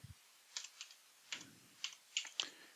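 A computer keyboard typed on in short bursts of crisp, quiet keystrokes, with a few clustered clicks and brief pauses between them and no voices.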